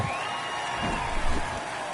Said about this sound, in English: the crowd is going crazy here tonight